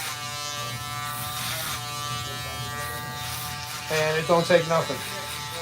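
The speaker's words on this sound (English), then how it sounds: "when you got this vector motor, you can literally hear it speed up when you work with this the right way" A vector-motor hair clipper hums with a steady electric buzz as it works against the scalp during a fade cut. Someone speaks over it, and the pitch rises near the end.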